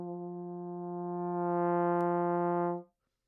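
A held trombone note that enters quietly and gradually swells louder, sustaining for nearly three seconds before ending, with a brief click near the end.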